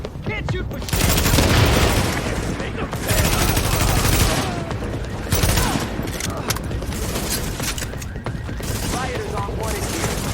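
Sustained gunfire fills a firefight in Tom Clancy's The Division, with dense rapid bursts and booming shots rolling on continuously, loud and close, while voices speak over the shooting.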